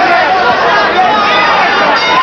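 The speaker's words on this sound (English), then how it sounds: "the crowd in the background yelling in Puerto Rican Spanish, "Dirty, dirty," to Julio Valdez" Boxing arena crowd yelling in Puerto Rican Spanish at a fighter late in a bout: loud, dense roar and clamor of many voices, continuous and close, with no individual speech standing out.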